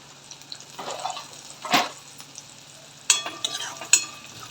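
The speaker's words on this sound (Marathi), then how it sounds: "हळद छान टाकून फिरवून घेतली" Semolina (rava) frying in a pan is stirred with turmeric, giving a soft sizzle under a few sharp scraping strokes of the spoon against the pan, close and moderately loud, with no talk.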